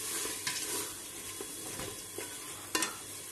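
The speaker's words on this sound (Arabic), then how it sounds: "غادي نضيف تقريبا تاع اكل طماطم مسطره، نخليهم يتقلى معاهم ثاني" Grated tomatoes fry with lamb in a pan, giving a soft steady sizzle broken by a few scraping stirs of a utensil, close and fairly quiet with no talk.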